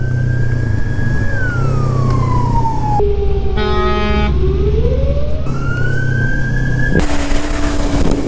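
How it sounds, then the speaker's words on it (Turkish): A loud wailing siren sweeps slowly up and down, close and continuous, with a blaring horn tone in the middle and traffic rumble beneath. "ambulans geliyor"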